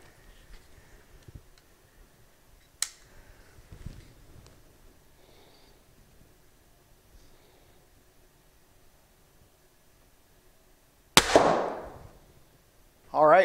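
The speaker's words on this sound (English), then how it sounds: "I'm going to go ahead and take the safety off, fire a shot, and see what we've got." A TenPoint Nitros 505 crossbow fires a single shot through a chronograph, giving one sharp, loud snap late in the stretch and then a short burst of noise, after a quiet wait marked by a faint click.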